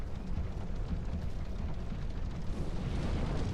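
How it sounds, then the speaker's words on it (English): Steady roaring crackle of flames as a windmill is set alight with a torch in the video game Dark Souls 2, a dense, even fire noise filling the whole stretch without pause or voices. "Light a torch and then burn the windmill, which defeats some of the poison around the place."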